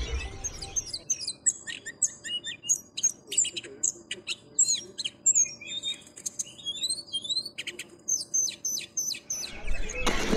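A green leafbird (cucak ijo) sings at a bird market, pouring out rapid, varied chirps, whistles and trills close to the microphone over a quiet background hum, with brief rustling noise at the start and end.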